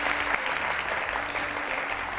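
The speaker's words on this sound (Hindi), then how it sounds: "तालियां बजाएं इनके लिए।" Studio audience applause on a TV talk show, a brief burst of steady clapping from a crowd, close and even throughout with a faint hum underneath.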